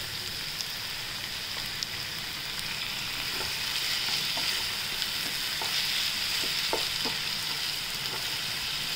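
Two tomatoes tipped into a pan of frying garlic and ginger for a cauliflower and green pea dish, producing a steady, fairly soft sizzle with scattered small pops and crackles throughout.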